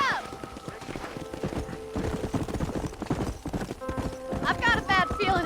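Horse hooves clip-clopping at a gallop in the video game Red Dead Redemption, a rapid, rhythmic run of close hoofbeats with a horse whinny and a voice speaking over it.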